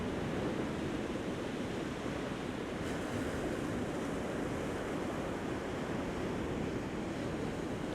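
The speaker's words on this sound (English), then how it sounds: "we got the sound of the waves. Try to match your breath with the waves coming in." Ocean waves on a beach at sunrise, a steady, full surf wash with a constant rushing roar and no clear breaks, close and moderately loud.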